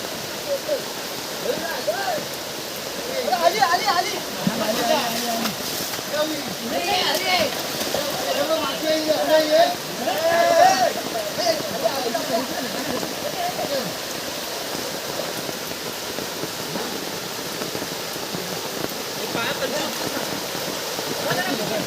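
A stream rushes hard during heavy monsoon rain, a broad continuous roar of water close by, with someone talking over it at times.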